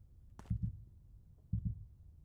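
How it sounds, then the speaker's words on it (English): Heartbeat warning cue from the video game Witch Hunt, signalling a nearby enemy: two paired low thumps about a second apart, soft and steady over faint background ambience. "it's like the heartbeat, I like it because it tells you where the enemy is"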